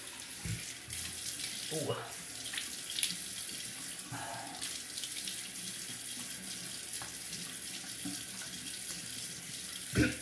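Tap water runs steadily into a sink while a man wets his face before shaving, a continuous splash with brief interruptions and a short exclamation from him.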